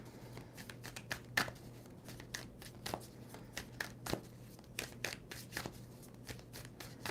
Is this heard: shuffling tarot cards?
yes